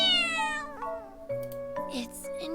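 Cat meows from the video game Love Esquire, a few pitched, wavering calls over steady game music, fairly close and clear.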